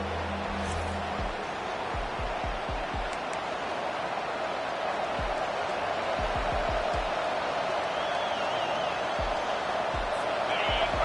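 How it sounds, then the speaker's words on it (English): Stadium crowd noise in College Football 25 during an Alabama versus Tennessee playoff game, a dense, continuous roar filling the background with scattered low thumps, steady and loud throughout. "listen to this crowd noise. This stadium is vibrating."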